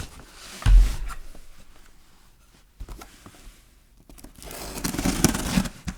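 Scissors cutting open a cardboard box holding a massage gun during an unboxing, with sporadic close snips, tearing and rustling of cardboard in a quiet room.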